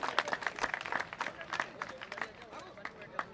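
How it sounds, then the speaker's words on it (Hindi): Faint clapping from a crowd greeting the organizing team at a community bhandara gathering, with sharp scattered claps amid background chatter. "इस आयोजन करता समस्त पूरी टीम का एक बार तालियों से अभिवादन करें, जोरदार तालियों से।"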